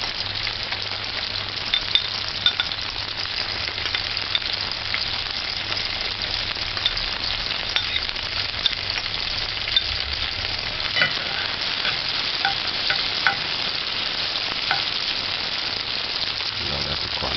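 Diced scallion fries in a hot pan for a mixed vegetable saltfish dish, with a loud, steady sizzle and hiss that runs unbroken from start to end.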